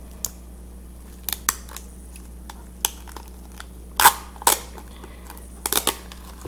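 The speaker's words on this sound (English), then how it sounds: "So I'm gonna wrap this thing in tape." Tape is wrapped around a homemade squishy made without foam or stuffing, producing sharp crackling rips and pulls in short irregular bursts. The sound is close and fairly loud, and no one speaks.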